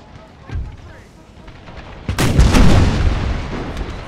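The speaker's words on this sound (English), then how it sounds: "All artillery is pretty much targeting uh, the close by people here." Artillery firing in Empire: Total War with an American Civil War mod: a faint early thud, then a loud close booming volley that rumbles and echoes over the last two seconds.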